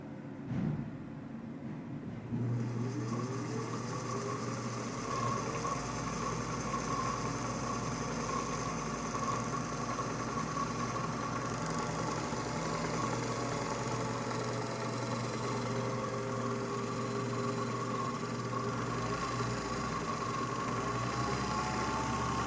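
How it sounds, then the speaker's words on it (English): A Singer 201-2 sewing machine runs steadily while winding a bobbin, a continuous low motor hum with a faint whirring tone that starts after a brief quiet moment and holds evenly to the end. "I have to wind up a bobbin."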